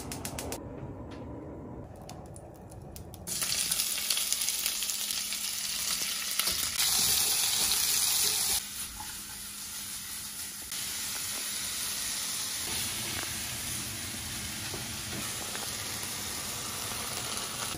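Lard frying in a pan while packed lunches are prepared, a steady crackling sizzle that grows louder and brighter after a few seconds, with faint clinks and scrapes mixed in.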